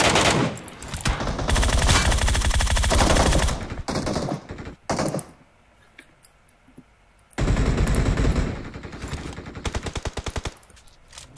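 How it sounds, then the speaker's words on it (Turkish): Rapid automatic gunfire from the mobile battle-royale game PUBG Mobile, with loud dense bursts at the start and again near the end and a quieter gap of scattered shots in between. "Beni görmesi mümkün değil, bana sıkıyor direkt."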